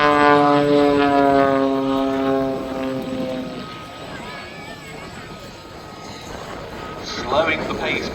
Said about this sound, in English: You can hear the noise of the two gas turbines there